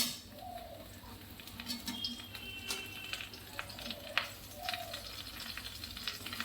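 Eggplant and potato fry in hot oil with a faint, soft, continuous sizzle and patter, quiet and distant, with a few small clinks and chirp-like squeaks over it.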